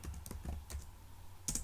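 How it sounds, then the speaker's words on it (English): Computer keyboard keys are typed as a web address is entered, several quick, soft clicks in an irregular run, close and quiet with no talk. "I'm going to type pabbly.com"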